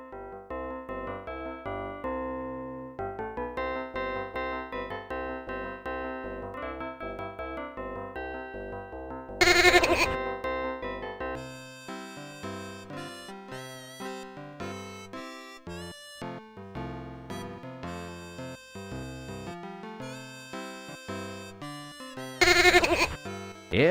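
Trixie the sheep bleats in the Freddy Pharkas adventure game, a couple of loud synthesized bleats cutting over a bouncy chiptune-style music track.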